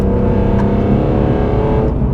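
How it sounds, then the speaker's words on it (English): Deep, throaty induction roar from a BMW M3 CSL under acceleration, loud and close, a steady rich drone without any break. "That induction is glorious."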